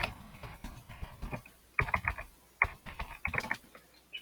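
Close, quiet clicking of typing on a computer keyboard, with short bursts of keystrokes separated by brief pauses and no voices.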